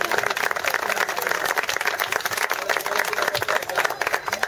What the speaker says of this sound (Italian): Un applauso a Fini Daniele